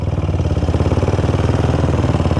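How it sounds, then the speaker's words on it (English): A Velocette Venom single-cylinder motorcycle engine fitted with a GP carburettor, held at a fast idle with a loud, close, rapid, evenly pulsing thump that stays steady throughout and has no talking over it. "Have to keep this revving because with a GP carb they don't tick over particularly well."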